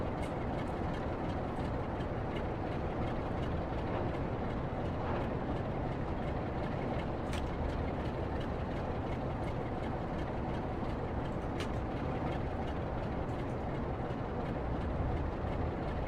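A Class 360 EMU electric train running on the Great Western line with Heathrow Connect branding in Train Sim World 6, a steady loud rolling rumble with faint rail clicks, unbroken throughout.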